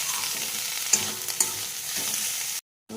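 Egg chicken Maggi noodles stir-fried with coriander leaves in a hot pan, giving a steady close sizzle with two sharp clanks of the spatula, then a brief silence before the sizzle returns.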